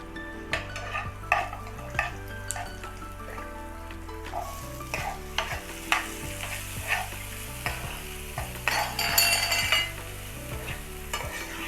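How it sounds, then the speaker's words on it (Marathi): A ground masala paste for a green peas kachori filling sizzles gently in a pan over a low flame, with frequent spatula scrapes and clinks against the pan. A steady tonal hum runs underneath, and no one speaks. "मंद गॅसवरच परतायचं"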